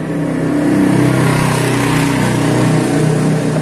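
Motorcycle engine running on a PWK carburetor after an intake manifold swap, a steady close idle with a continuous low throbbing drone and even pulsing, no revving or talk.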